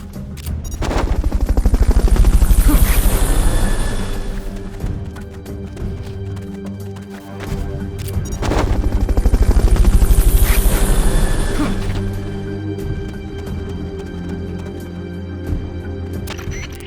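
A helicopter's rotor chops loudly and continuously in the Metal Gear Solid Peace Walker video game, swelling and fading twice as it passes, with sharp gunfire-like bursts mixed in and no voices.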